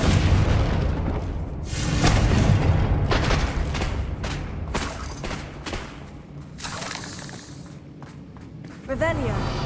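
Confringo fire spell explosions in Hogwarts Legacy combat, several booming blasts and sharp cracks amid footsteps and shattering, with voices talking throughout.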